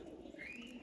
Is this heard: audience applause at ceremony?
no